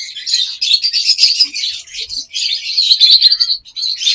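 Pet-shop lovebirds chirp in a dense, continuous chatter of high, rapid tweets, close and loud, with short gaps and no talking.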